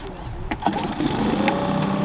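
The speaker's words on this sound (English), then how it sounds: "3 pulls on a semi-warm motor" A Tohatsu 20hp EFI outboard motor, semi-warm, is pull-started: a couple of quick cord pulls followed by the engine catching into a steady, moderately loud idle hum.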